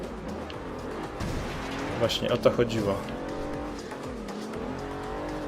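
Racing game cars in Forza Horizon 2 rumble and squeal, with a quick cluster of bumps and knocks as one car scrapes against others, under continuous talking.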